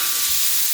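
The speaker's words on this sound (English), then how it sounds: "On goes the shrimp, and you don't want to keep it on there for too long." Jerk-marinated shrimp sizzle on a Traeger Flatrock griddle over high heat, a loud, steady bright hiss of frying with no talk.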